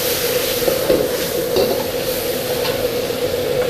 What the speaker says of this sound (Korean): 이제 한번 볶고 간장을 좀 넣어주고